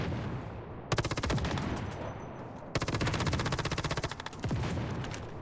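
Rapid automatic gunfire in Once Human, fired at a boss from a safe spot, comes in two long sustained bursts of loud, evenly spaced shots separated by a short pause.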